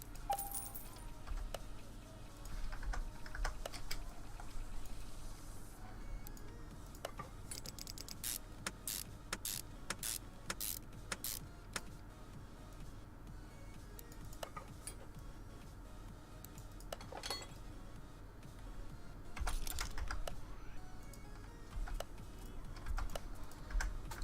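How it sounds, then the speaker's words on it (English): Someone types steadily on a computer keyboard, with quiet clustered keystrokes and occasional louder key clacks. Bursts and brief pauses run through the whole stretch at a soft, close level. "Tell you what, Celestro, this keyboard isn't too bad"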